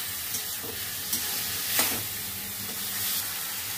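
Banana flower and potato pieces for a Bengali mochar ghonto being sautéed in a pan, a dense continuous hiss of frying with occasional scraping stir strokes, close up and without speech.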